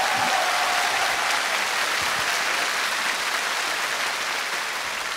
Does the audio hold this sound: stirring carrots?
no